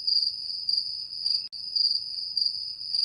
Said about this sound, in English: maybe we can insert some funny cricket noises right there.